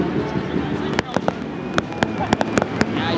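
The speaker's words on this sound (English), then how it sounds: "now the fireworks here is going rampage." Fireworks burst in sharp, loud cracks at a stadium trophy celebration, about a dozen irregular bangs over steady crowd noise and talk.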